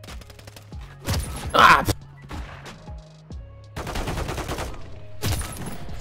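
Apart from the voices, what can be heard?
sniper gunfire in a video game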